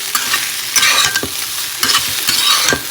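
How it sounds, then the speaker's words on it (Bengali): Soybean chunks sizzle in a hot pan while a spatula scrapes and stirs in repeated bursts, close and fairly loud with no talking. "সোয়াবিনটা এখন ভাজা করে নিচ্ছি"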